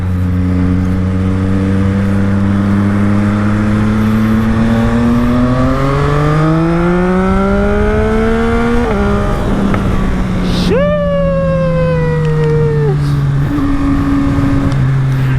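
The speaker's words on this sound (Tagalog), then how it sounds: "Iba talaga tunog kapag sinasagad yung low gear." A CFMOTO 450SR motorcycle is held in low gear, its engine climbing steadily in pitch over several seconds, then snapping through quick rev surges and a sharp high-pitched spike before settling, loud and up close with heavy wind rush.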